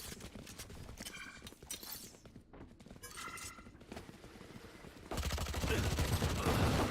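Mechanical clicks and clacks of a weapon reload in the tactical shooter Valorant, two short rattling bursts amid steady game noise, followed by a louder wash of in-game ambience and distant action.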